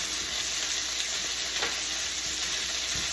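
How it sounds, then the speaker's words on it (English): Wonton noodles fry in vegetable oil in a wok over medium-high heat, giving a loud, steady, unbroken sizzle with no voices over it. "We're going to do our wonton noodles. We're going to fry them for about 5 minutes."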